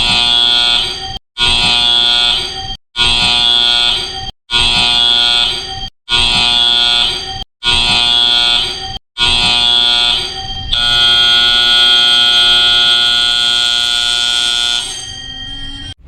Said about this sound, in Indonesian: Itu adalah bunyi alarm situasi darurat yang bunyinya sama di semua kapal di seluruh dunia.